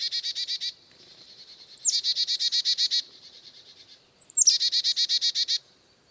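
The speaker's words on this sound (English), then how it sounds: "The Carolina wren." Carolina wren sings two loud, close bursts of rapid repeated chirpy phrases, each a run of about eight even notes, separated by a brief softer trill, with no other sound around.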